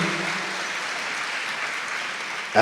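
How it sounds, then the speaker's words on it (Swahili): Steady crowd applause for a professor at a youth leadership summit, even and continuous at moderate distance, ending in a brief louder burst. "tukampigie Profesa makofi"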